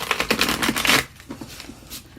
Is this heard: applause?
no